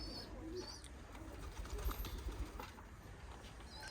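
Pigeons feeding on scattered grain in a rooftop coop, with soft pecking, shuffling and low cooing, plus occasional wing flutters, held steady over a dense, close background bustle.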